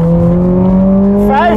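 A Ferrari F430 or 430 Scuderia engine hums at a steady, loud pitch close by, with a voice breaking in at the very end.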